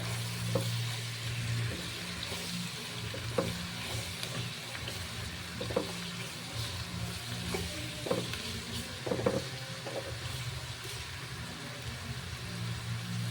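Mushrooms sautéing in a pan for a potato chicken mushroom dish, a low continuous sizzle broken by intermittent scraping and tapping stir strokes, fairly quiet and close, with no voices.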